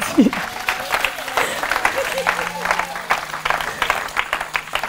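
A church congregation applauds in a steady, dense patter of many hands that carries on throughout, with a voice speaking over the clapping.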